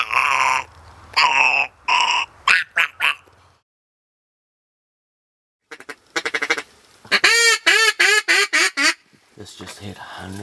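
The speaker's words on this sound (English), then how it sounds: "These are mallards." Mallard ducks quack in repeated loud bursts during a duck shoot in New Zealand, some calls up close, broken by a few seconds of silence before a fresh rapid volley of quacks.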